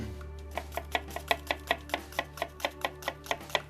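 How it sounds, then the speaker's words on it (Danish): A knife finely chops shallots on a cutting board for a béarnaise sauce, making quick, regular, crisp taps about five per second, close and clear with no speech. "Så man hakker helt fint."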